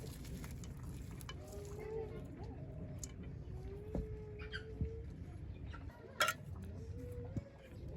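Chopped onion sizzles and crackles steadily in raw oil in a village kitchen, with occasional stirring clinks and scrapes over the continuous frying hiss.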